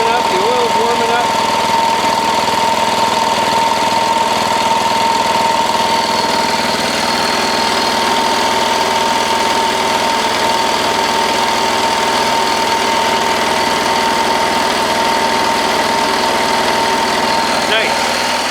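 A diesel Wheel Horse garden tractor idles after a cold start, its engine chugging in a steady, loud, close rumble with a light knocking clatter, running alone without change.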